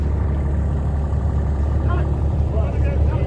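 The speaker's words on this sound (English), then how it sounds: "I'm gonna say the John Deere 950, and you heard it run there" A John Deere 950 tractor engine runs at an auction, a steady low rumble that holds without a break, with faint voices in the background.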